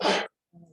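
A single sharp, forceful sneeze bursts out at close range in a meeting room, followed after a brief silence by a low murmur.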